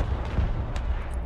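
Rumbling artillery fire in the war game Broken Arrow, a dense low booming barrage with a few sharper bursts layered over it, steady and loud throughout the short stretch.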